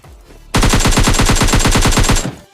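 Rapid automatic gunfire from a shooting video game erupts after a quiet half-second, a dense burst of evenly spaced loud shots lasting nearly two seconds before cutting off.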